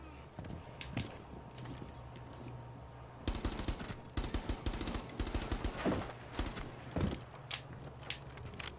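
Automatic weapon fire from Rainbow Six Siege, short bursts over a steady low game hum, loud and close, with the trigger held for a second or two at a time between pauses.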